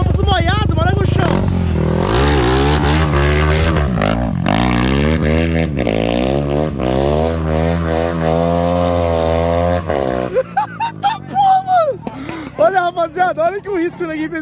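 A Honda Twister motorcycle fitted with a larger F800 piston revs hard on wet ground, its engine rising and falling in long sweeping pitches for about ten seconds before cutting to choppy bursts while people talk nearby.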